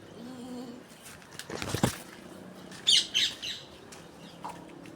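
A brief flutter of wings, then a few sharp parrot squawks in quick succession, fairly faint against quiet outdoor background.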